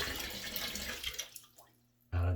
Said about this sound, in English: I'm dumping the water.